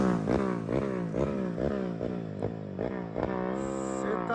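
A tuned small motorcycle with a lean fuel mixture revs hard in repeated rising sweeps, about nine quick climbs of engine pitch as it passes at speed, sharp and fairly close.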